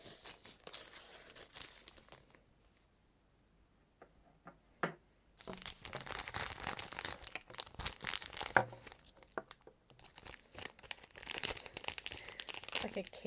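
A snack subscription box package being cut and torn open, with crinkling and tearing of packaging in dense, close bursts after a quieter stretch with a few isolated clicks.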